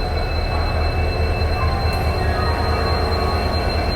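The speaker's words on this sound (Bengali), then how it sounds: "এটা হচ্ছে আমাদের লোকোমোটিভ" A train locomotive of the Howrah–Kanyakumari Superfast Express stands at a station platform, giving off a constant heavy rumble with a thin high-pitched whine and squeal running through it.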